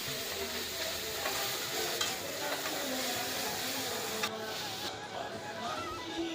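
Onion, ginger and garlic frying in a pan for South Indian chicken kuzhambu, a continuous close sizzle with spoon scrapes and stirring clatter throughout.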